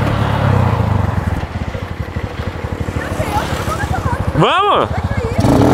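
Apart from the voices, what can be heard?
BMW R1200 motorcycle engine running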